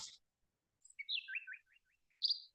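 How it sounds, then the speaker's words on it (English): Small garden birds chirp in a quiet radio spot: a short burst of high tweets, then a run of quick descending chirps, and a final bright call, each clear and close against silence. "The sound of adorable little birds in your garden."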